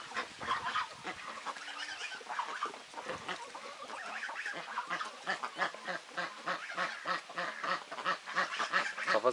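A flock of geese and ducks splashing about a backyard pool honks and quacks nearly nonstop, loud and close, with overlapping calls building steadily throughout.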